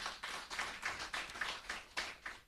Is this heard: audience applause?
yes